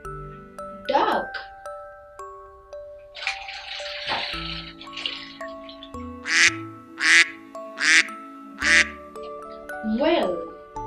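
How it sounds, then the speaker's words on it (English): A cartoonish duck quacks in a short burst of five or six bright calls near the end, amid playful chimes, bells and bubbly water effects in an animal sound sequence. "Duck."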